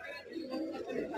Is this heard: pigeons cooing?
yes